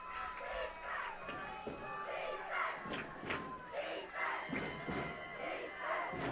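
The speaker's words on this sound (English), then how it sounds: "both crowds cheering on their respective teams" Crowds at a high school football championship game between Bellport and West Islip cheer on their teams, a distant, continuous roar of shouts and yells that rises and falls in waves under faint commentary.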